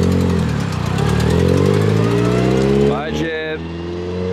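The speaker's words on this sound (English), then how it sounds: "Hey, Jip, you still have an exhaust manifold leak" A Nissan S15 with an exhaust manifold leak pulls away, its engine note rising and then fading over a few seconds beneath close, loud talk.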